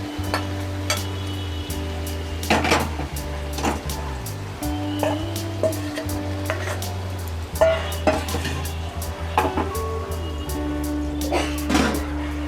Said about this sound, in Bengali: এবারে আমি গ্রেভিটা দিয়ে দিচ্ছি।